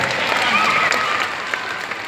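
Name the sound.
audience applause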